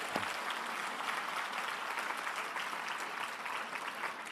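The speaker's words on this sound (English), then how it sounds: "Give her a round of applause." Steady audience applause in a seminar hall, a dense even patter of many hands clapping continuously at moderate volume throughout, with no speech over it.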